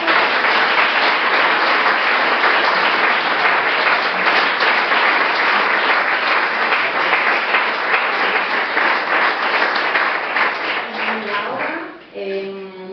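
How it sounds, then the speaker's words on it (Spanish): Audience applause after a literary talk with author Luis Zueco, a dense, steady wash of many hands clapping for about eleven seconds before fading, with a few voices emerging at the end. "yo creo que se merece un grandísimo aplauso"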